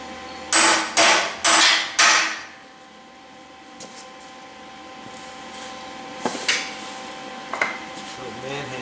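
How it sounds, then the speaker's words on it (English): A hammer strikes an old compressor cart in a quick run of four loud metallic whacks, then a few lighter knocks and clatters follow after a quiet stretch. "Another little whip or 2 or 3 with a hammer."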